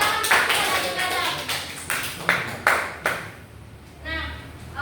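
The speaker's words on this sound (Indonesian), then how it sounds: "kita tepuk tangan kepada Adik Adam" A class of students claps for a classmate at the end of a classroom guidance session: a string of loud, distinct claps in a loose beat, close by, with voices talking over and between them.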